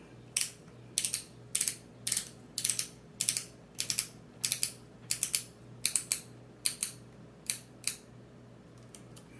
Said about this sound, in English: I'll actually use the screwdriver itself to make it a little easier to do once I get it in there.